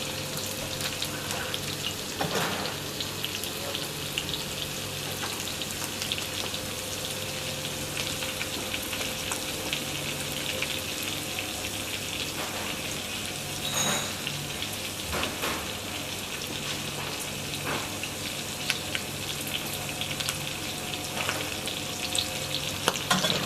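Steady, dense sizzling of meat and eggs frying on a hot griddle, continuous crackle with occasional louder pops and scraping, no voices.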